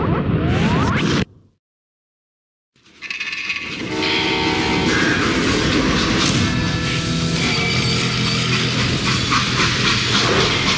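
A train rolls past, loud and close, with a rushing, clattering rumble and sustained horn-like tones. Near the start the sound drops out for about a second and a half, then the train noise builds back up and holds steady to the end.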